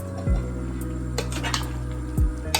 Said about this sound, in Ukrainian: перемішуємо це все